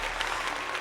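Short applause sound effect on a livestream, a compact wash of crowd clapping that is faint and lasts under a second.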